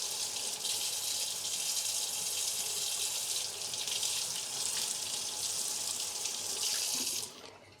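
Hot water gushes steadily from a tap over a dismantled Mk2 Golf clock part, a loud continuous hiss and splash that stops abruptly near the end.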